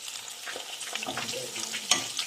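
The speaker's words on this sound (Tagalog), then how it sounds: "Siya na yung nagpiprito din." Garlic and onion fry in a pan with a continuous hiss and crackle, close and fairly quiet, with small stirring scrapes and one brief sharper pop.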